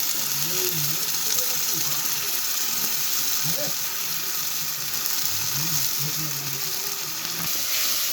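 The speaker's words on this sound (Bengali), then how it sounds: "এবার সব কটাকে একসাথে ভালো করে ভেজে নিচ্ছি" Onion, tomato and ginger-garlic-chili paste fry in a pan for tarka, giving a steady close hiss and sizzle with faint scraping stirs throughout.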